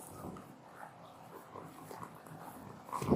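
Dog giving soft whimpers and small yips close by, quiet and broken up, rising into a louder burst at the very end.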